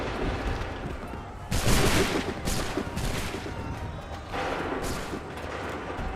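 Volleys of musket fire in Assassin's Creed 3 break out in several loud bursts, each with a crackling, ragged tail. Quieter battle noise fills the pauses between the volleys.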